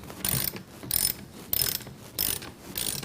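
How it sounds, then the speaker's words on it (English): Ratchet wrench with a 7/32 socket working loose bolts beneath the valance of a Ford Mustang during a headlight swap, five bursts of close, loud clicking separated by short pauses. "there's 4 bolts underneath the valance, and you're going to need a 7/32 socket to remove those"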